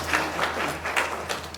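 A church congregation applauding, a brief burst of scattered hand claps heard from a short distance in a reverberant hall over a low hum.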